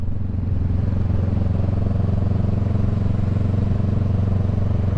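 A Shorty GP Rebel 500 motorcycle engine runs close by at a steady, loud idle, with an even throbbing rumble and no change in revs throughout.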